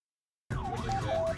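Police car siren switched on during an emergency call response, wailing in rising and falling sweeps loud and close after a half-second of silence, with no talk.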